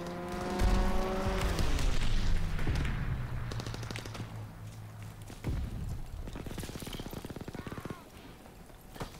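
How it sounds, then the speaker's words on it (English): A fighter plane dives in on a strafing run in Call of Duty WWII, its engine drone sweeping downward in pitch as it passes, followed by a spray of rapid gunfire. "Fighter pilot inbound, strafing the target."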